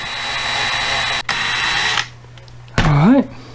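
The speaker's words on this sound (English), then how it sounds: "drill it out. Take her apart." Power drill boring into a Hot Wheels die-cast toy car: a loud steady whine for about two seconds with a brief break, then a short rising-and-falling burst near the end.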